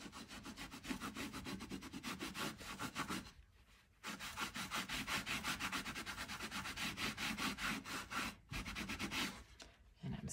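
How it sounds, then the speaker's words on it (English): A lint-free cloth buffs wax and dust into an antiqued, chippy, cracked-patina furniture finish, with steady rhythmic back-and-forth rubbing strokes, close and continuous, broken by two short pauses. "a clean lint-free cloth, and I'm just gonna buff this"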